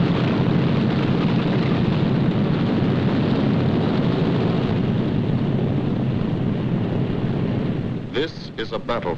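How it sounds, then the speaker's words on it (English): Wartime bomber aircraft engines roar in a loud, continuous, dense drone over quiet English countryside, holding steady before briefly thinning and stuttering at the very end. "Only the roaring engine sound of the bombers pounding through the quiet English countryside."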